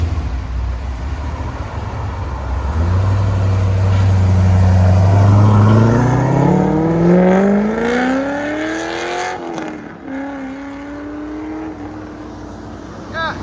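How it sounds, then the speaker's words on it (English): A cammed Chevy Corvette Z06 with a 7.0L V8, long-tube headers and a Corsa Sport exhaust revs hard, rising in a long loud climb before dropping back to a lumpy idle with short blips, close by and with no talk. "Definitely sounds like a race car."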